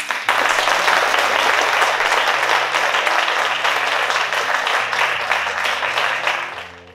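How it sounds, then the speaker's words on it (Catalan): Audience applause at a local commerce merit award ceremony, a loud, dense burst of many hands clapping close by that holds steady for several seconds and then tails off quickly. "Un aplaudiment."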